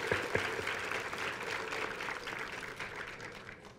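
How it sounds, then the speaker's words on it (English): Audience applause at the opening ceremony of the 2020 Taiwan International Science Fair, a dense, steady wash of clapping from a large crowd that holds at an even level throughout, with a couple of sharper claps near the start. "Give them a big applause."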